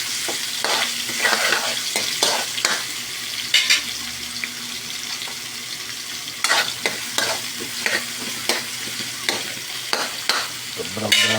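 Garlic and onion sizzle steadily in a pan while a utensil stirs and scrapes through them in repeated close strokes.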